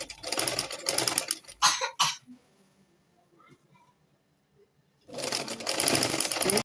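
A sewing machine stitches skin illusion net along a deep neckline, running in a fast, loud, close burst, stopping for a few quiet seconds, then starting up again.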